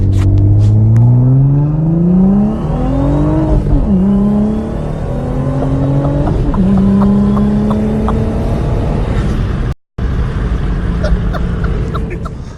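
Twin-turbo Audi S4 in poor condition accelerating hard through the gears, its engine note rising loud and close in long sweeps with brief dips at each shift, then a short cut and steady cruising drone.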